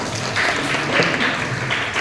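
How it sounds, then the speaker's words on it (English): Lecture audience clapping for a student's answer, a steady dense patter of many hands filling the room with no talk over it. "Can you please clap for her?"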